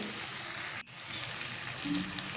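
Vegetables sautéing with spices in a pan give a steady, close sizzle and frying hiss with a brief stir-like interruption partway through.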